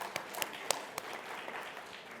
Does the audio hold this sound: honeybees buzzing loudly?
no